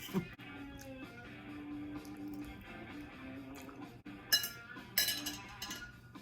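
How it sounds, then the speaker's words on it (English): Quiet clinks of a fork against a plate during a meal, a few light metallic taps and scrapes that turn sharper near the end, with no voices. "I'm eating it with a fork"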